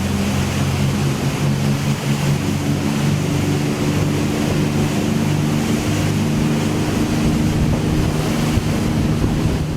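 A Jeanneau Velasco 43F motorboat cruising at speed off Propriane, capable of 27 knots, gives a steady, loud roar of engine and rushing water mixed with heavy wind buffeting throughout, with no voices.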